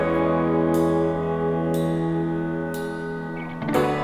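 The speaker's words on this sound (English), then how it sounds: "A ride cymbal." Ride cymbal strokes land roughly once a second over sustained piano chords and guitar in a song production, each hit a bright shimmering wash, with a fuller cymbal accent near the end.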